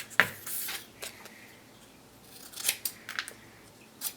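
Scissors trimming excess decal sheet from a Jason Halloween store mask: a few sharp, close snips and rustling cuts spaced irregularly over quiet background.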